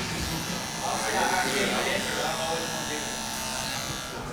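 Electric hair clippers buzz steadily and close up while trimming a beard using the clipper-over-comb technique, a continuous droning hum with speech faintly underneath.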